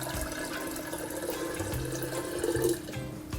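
Spring water running into a container to be boiled for brewing coffee, a steady gurgling pour, close and moderately quiet, with a slight swell near the end.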